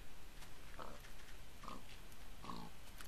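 Pigs in Minecraft give three short, nasal oinks spaced about a second apart over a soft background hum, faint and fairly close.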